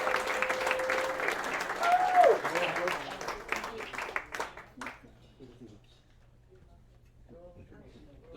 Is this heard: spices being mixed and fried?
no